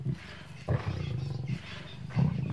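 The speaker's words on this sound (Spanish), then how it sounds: "7 leones luchando por su parte." Seven lions fighting over a warthog carcass in the African wild: repeated deep growling roars and snarls in short bursts, close and overlapping, with no speech.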